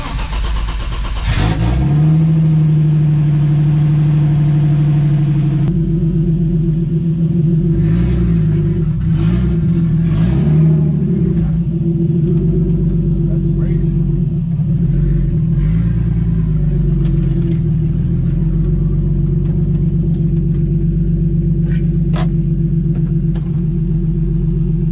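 A turbocharged BMW M52 straight-six fitted in an E30 starts and idles loudly and close, a steady low drone with a few blips of revving partway through, running continuously without talk.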